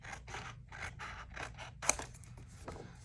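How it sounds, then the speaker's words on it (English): Scissors snip through paper for a junk journal, a quick rhythmic series of about six crisp cuts followed by a sharper closing snap, close and clear with no voices. "I will be able to cut this out, and I didn't have to measure anything"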